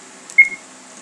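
A vault code being keyed into a keypad in a video game: a couple of short, clean electronic beeps close together, with a quiet hum underneath.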